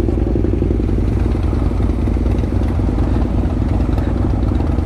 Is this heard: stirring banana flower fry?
no